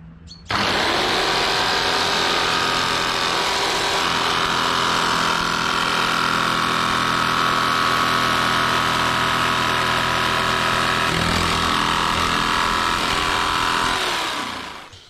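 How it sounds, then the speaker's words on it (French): Jigsaw fitted with a small high-speed blade and no orbital action cutting boat floor laminate: a steady, loud, close motor whine with rasping blade chatter that runs continuously for about fourteen seconds before spinning down. "la scie sauteuse avec toute petite lame haute vitesse et pas d'oscillation pour faire notre découpe"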